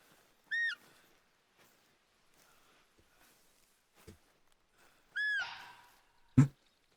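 Two sharp descending bird calls ring out in the wild terrain of theHunter: Call of the Wild, spaced apart amid near silence, with soft footsteps and a thud between them.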